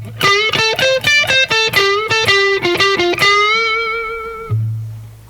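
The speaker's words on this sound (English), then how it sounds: "Distortion." Electric guitar with a distortion effect plays a quick, rhythmic run of picked notes from a solo, then lets one note ring out and fade. It is loud and close, with no talk.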